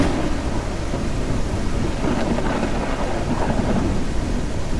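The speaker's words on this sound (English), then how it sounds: "Thunder and lightning again!" A thunder and lightning storm in the Ranch Sim farming game rumbles on with steady rain and low rolling thunder, a constant dense wash of storm noise with no voices.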